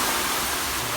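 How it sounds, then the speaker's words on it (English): Water is thrown onto hot rocks in a Finnish sauna, and a loud, dense, broadband hiss of steam fills the moment without pause. "I'm gonna throw some water on the rocks."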